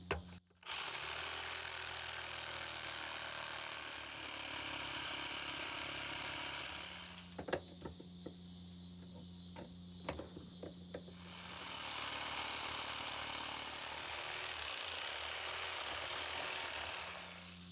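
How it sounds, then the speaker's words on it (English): A tool cuts into the copper coil of an electric motor, rough rasping and grinding up close that pauses midway with a few sharp clicks before the cutting noise resumes. "Once again, we'll cut this coil to remove the copper."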